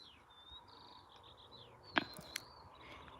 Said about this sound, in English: Can you hear the birds as well?